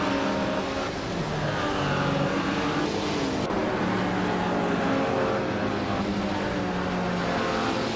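A 1956 Maserati 450S roars off at a race start on the Interlagos vintage track, its loud, steady engine drone filling the whole stretch among other racing cars, with no voices.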